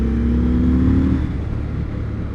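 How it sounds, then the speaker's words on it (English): A 2021 Indian Scout Bobber Twenty motorcycle accelerates hard on the throttle, its engine note loud and close, rising in pitch and then easing as it pulls away, with no talking. "Yeah, it pulls. This bike pulls."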